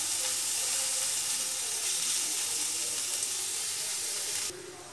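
Onion and garlic frying in oil for spinach bhaja, a steady bright sizzle and hiss that carries on evenly, then drops suddenly quieter near the end.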